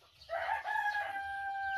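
A rooster crows once, loud and close, with a long drawn-out call from a chicken coop, and nothing else is heard.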